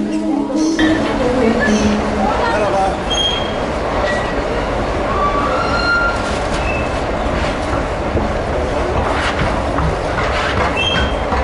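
An Istanbul metro train at a station, a loud, continuous rumble of cars with rail clatter and brief high squeals. Voices talk over it throughout.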